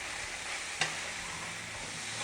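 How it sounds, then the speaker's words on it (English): Spinach fries and sizzles in a pan with a steady, soft crackle throughout and a single brief clink of a utensil near the start. "we're basically just going to cook this now just until the spinach is wilted"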